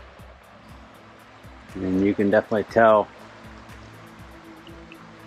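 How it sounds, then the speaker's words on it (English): The Alderman River at Alderman's Ford Nature Preserve, running high after heavy rains from Tropical Storm Ada, gives a steady, soft rush of water throughout, with a person briefly talking over it in the middle. "This is the Alderman River,"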